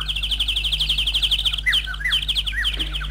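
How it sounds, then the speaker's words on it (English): Birds singing and chirping nearby on a sunny day, a fast rhythmic trill of repeated tweets followed by swooping whistled calls, with no voices. "Listen to the birds sing gaily as the sun shines brightly"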